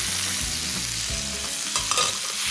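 Frozen peas sizzle and fry in a pan with shallots, chili and garlic, a steady close crackle with light stirring scrapes and no talking.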